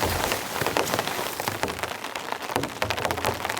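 Gentle rain patters steadily on a tent pitched in the bush during summer camping, a dense, even hiss of drops close by with no voices.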